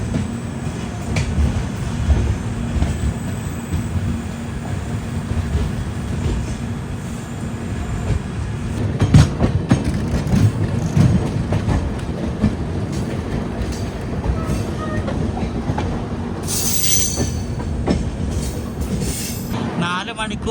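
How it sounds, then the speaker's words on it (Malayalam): A train creeps slowly along a loop track into a station, with steady rolling rumble, intermittent wheel clacks and a brief high squeal of wheels on rails, heard from inside the carriage. "ഭയങ്കര പയ്യാണ് ട്രെയിൻ കയറുന്നത് ഇവിടെ."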